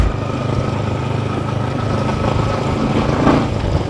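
A Yamaha MT15 motorcycle with a modified exhaust idles close by with a steady, throaty, rumbling exhaust note and no talking.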